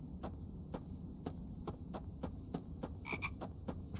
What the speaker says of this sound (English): A frog there.